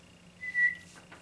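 A person whistles a single short, clear tone that rises slightly and holds for a fraction of a second, close and fairly quiet.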